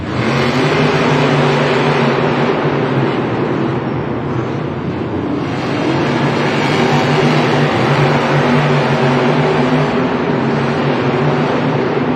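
Monster trucks at a Monster Jam racing event in a Miami stadium rev their engines at the start line, a loud, steady, throaty roar with harmonic engine drone rising and falling across the whole stretch.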